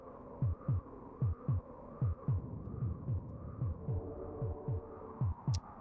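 A synthetic heartbeat from the SNES game Populous thumps in steady double beats over a low droning hum, with a brief metallic ping near the end.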